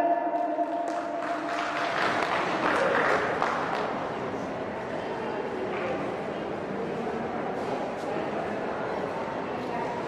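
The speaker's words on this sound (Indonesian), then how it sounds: "Yuk berikan tepuk tangannya mana yuk." Audience clapping at a city arts festival in Bogor, a broad steady patter sustained throughout, loudest in the first few seconds, with crowd voices and other sounds mixed in.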